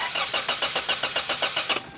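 A Toyota engine cranks without catching because no fuel reaches it, the starter turning it over in a steady rhythmic churn of about a dozen even pulses, loud and close, with no voices.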